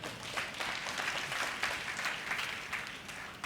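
A church congregation claps hands together at a Tamil promise service, a steady, fairly soft patter of many hands sustained throughout without a break.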